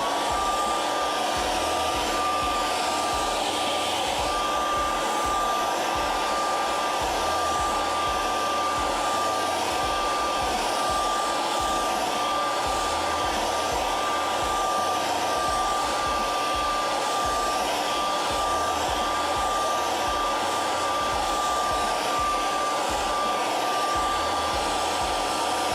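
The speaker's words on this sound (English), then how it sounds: "hair dryer time." A hair dryer blows steadily and loudly, a constant whooshing motor hum with a fixed whine, running alone and unbroken throughout, used on puppet-making fabric during a crafting session.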